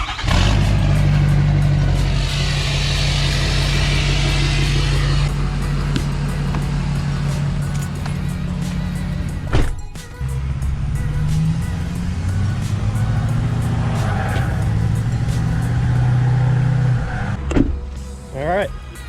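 A BMW E36 drift car with a swapped LS engine runs steadily and loudly nearby, a constant low rumble with slight changes in pitch and a couple of sharp clunks, while people talk underneath.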